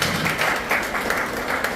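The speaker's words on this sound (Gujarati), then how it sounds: "આપણે પુષ્કળ તાળીઓ પાડીશું." An audience at a Good Samaritan Award ceremony applauds in a steady, dense patter of hand claps that holds through the whole stretch without pause.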